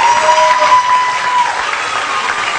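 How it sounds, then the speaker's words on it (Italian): A studio audience gives loud, sustained applause at the finale of a TV dance competition, a dense even roar of clapping with a faint tone running through it. "Un applauso."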